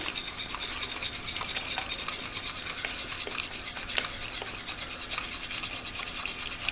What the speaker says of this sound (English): I'm going to whisk in my polenta